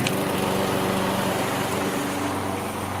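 A lawn mower engine drones steadily and loudly at close range for the whole stretch, with no gaps in its broadband roar.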